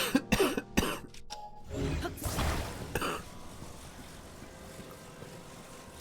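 Someone coughs repeatedly, several sharp close coughs followed by throat clearing, during a long gaming stream session.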